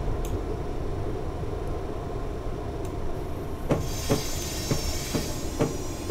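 An F59PHI locomotive braking into a station in Train Simulator, with a steady rolling rumble under a series of sharp rail clicks and squealing brake hiss in the second half, no voices.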